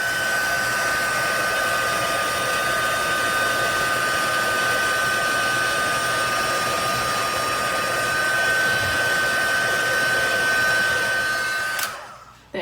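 A heat embossing tool blows hot air steadily to melt embossing powder on a watercolor-washed card, a loud continuous whir with a high whine that runs unbroken for about twelve seconds before it is abruptly switched off.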